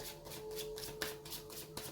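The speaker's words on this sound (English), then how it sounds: "I'm going to give the deck a good shuffle so that I can just pick from the top each time I want to talk" A deck of tarot cards is shuffled by hand, producing soft, rapid riffling bursts in a quick, regular rhythm, close and fairly quiet, with no voices.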